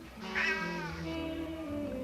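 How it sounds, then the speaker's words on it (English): A single low, drawn-out cat meow, close and clear, sliding downward in pitch over about two seconds. "we hear a different audio file of a deep cat meow."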